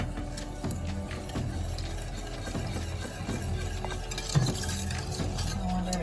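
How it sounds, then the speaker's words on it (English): A spoon stirs milk in a pot over medium heat for chocolate ice cream, a run of soft, close scraping and swishing strokes with a low background hum and one brief clink near the end. "Gradually stir in the milk while cooking over medium heat, stirring constantly until it begins to simmer"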